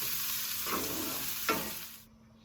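Garlic and ginger sizzle steadily in a hot pan, close up, with a couple of brief scraping stirs before the sizzle cuts off.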